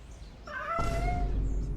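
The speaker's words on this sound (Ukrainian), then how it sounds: "А давайте зробимо мняв." Cat meowing in the video game Stars In The Trash, a single drawn-out tonal meow rising in over a low room hum, followed by a sudden burst of low rumbling noise, with no speech.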